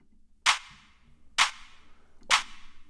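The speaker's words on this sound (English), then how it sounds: "one of the claps is just a higher clap and one's a lower clap, and together they sound like this" Layered high and low techno clap samples, three sharp, bright claps spaced about a second apart with short decaying tails, close and loud over near silence.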